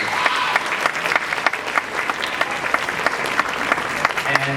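Dense audience applause fills a school winter concert hall, steady overlapping claps at close to moderate distance with no pause, as families cheer a choir.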